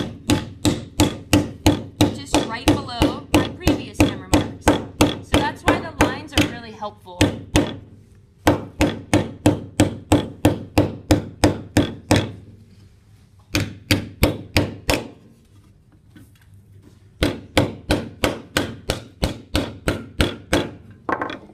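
Rapid, steady hammer blows on sheet metal being sunk into a bowl shape, loud and close, in runs of strikes broken by short pauses, with a few brief words spoken.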